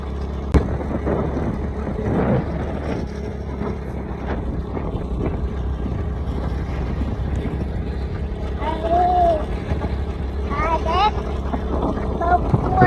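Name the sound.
motorcycle riding at night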